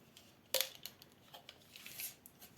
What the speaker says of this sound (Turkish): Bir sıra gidemeyeceği için kestim burada.